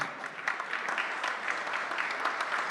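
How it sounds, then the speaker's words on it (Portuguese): An audience at an inauguration ceremony for presidents of affiliated organizations applauds the girls, a steady, dense wash of clapping that carries on evenly without any voices over it. "Podem aplaudir as meninas"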